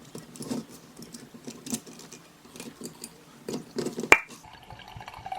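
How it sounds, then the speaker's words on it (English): Wine poured into a big glass at home, a soft liquid patter and trickle with a sharp glassy clink near the end, followed by a faint ringing tone; no talking. "I'm gonna pour myself a glass of wine"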